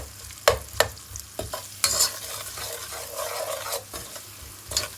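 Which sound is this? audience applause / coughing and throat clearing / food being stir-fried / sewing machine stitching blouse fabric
food being stir-fried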